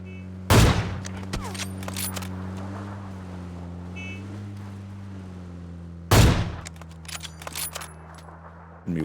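Gunfire in Super Mario Party Jamboree comes as two loud, sharp bursts several seconds apart, each cutting through a steady low droning hum that continues between the shots.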